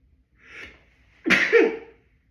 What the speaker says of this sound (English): Yes, I sneezed on camera.